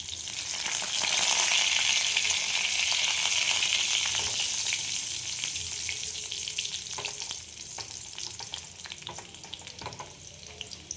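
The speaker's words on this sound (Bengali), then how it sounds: "রসুন দিয়ে দিলাম" Seven or eight garlic cloves fry in hot oil, producing a loud, dense sizzle that eases off over time, with occasional light clicks of stirring and no voices.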